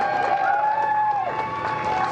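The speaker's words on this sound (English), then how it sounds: "Small crowd, but big cheers." Small crowd cheering and clapping for NASA astronauts emerging from a building, a steady wash of applause and shouts under a sustained tone, with some talk mixed in.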